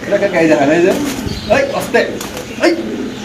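Pigeons coo at a pigeon market, soft repeated calls close by, heard beneath someone talking throughout.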